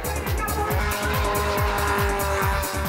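A car drifting at high speed roars with a strained engine and rhythmic, pulsing tire squeal, loud and close throughout, with no voices.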